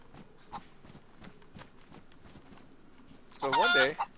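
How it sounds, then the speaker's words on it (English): A chicken in the video game DayZ gives one short, loud cluck near the end, after a stretch of faint, sparse ticking and rustling in the game. "It sounded like a chicken."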